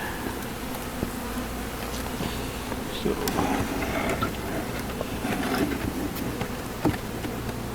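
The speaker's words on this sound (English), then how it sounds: "I'm going to dump the bees in." Honeybees from a shaken package, about ten thousand workers with a queen, buzz loudly and steadily as they are dumped into a hive, with thumps and knocks throughout and a brief voice at the start.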